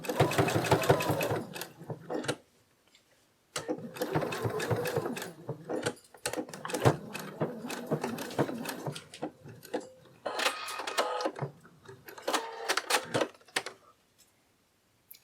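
A sewing machine stitches a seam on a plush shoulder dragon, running in several fast mechanical bursts of rapid close ticking separated by short pauses of near silence.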